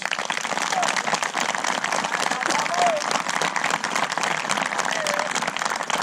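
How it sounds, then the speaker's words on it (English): Sustained applause from a large crowd at a high school graduation ceremony, dense and steady clapping throughout with faint cheering mixed in. "you give them a deserving round of applause"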